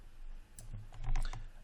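Computer keyboard keys pressed during 3D modeling in Maya 2017, a short cluster of close, crisp clicks and taps with no talking.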